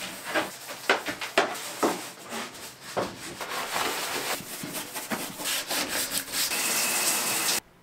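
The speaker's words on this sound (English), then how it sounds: "And now it's time to scrub." Scrubbing a shower sprinkled with plain baking soda: repeated rough rubbing and brushing strokes in an uneven rhythm, close and moderately loud, with no talking.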